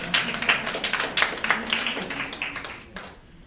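An audience at an entrepreneurship week event claps with rhythmic, fairly close hand claps that fade out toward the end.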